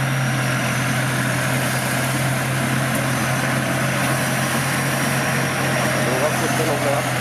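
A Hino diesel engine on a Sin Charoen Yont combine harvester from Suphanburi runs with a steady, loud, close drone and a constant low hum, with voices in the background.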